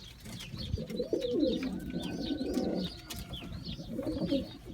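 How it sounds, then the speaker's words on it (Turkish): A stray male pigeon, caught on a rooftop, gives repeated low coos near and clear, with chirping birds in the background. "Şöyle güzel bir erkek antarçam."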